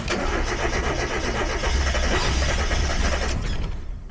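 Car engine cranking and catching after intake air temperature sensor wiring work on an NA6 Miata, running loud and rough close by for several seconds without talk.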